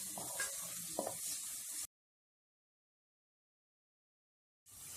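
Coarsely ground ginger garlic paste fries in a pan over a medium flame for a mutton stew, giving a steady soft sizzle with a couple of stirring scrapes. It cuts to silence partway, then the sizzle resumes.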